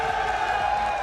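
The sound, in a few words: esports arena crowd cheering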